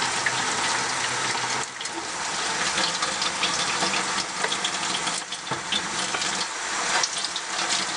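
Water runs from a tap as a makeup face brush is rinsed beneath it, a loud, steady rushing hiss close by that keeps going with only small dips.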